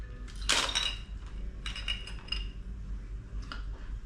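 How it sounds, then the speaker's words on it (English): Small hard objects clink and rattle together in a few brief bursts against a low background hum. "That noise you hear is just like lens caps"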